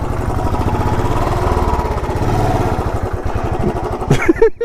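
A motorbike engine labours loud and close on a rough track, throbbing in a steady pulsing drone that turns uneven and sputters in the final moments.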